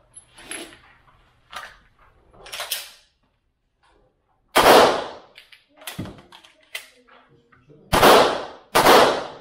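Firearm shots during a shooting instruction session: a handful of sharp, loud, close-range cracks at irregular intervals, each with a brief decaying tail, separated by quieter handling clicks and rustles.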